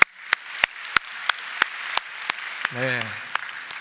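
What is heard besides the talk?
church congregation applause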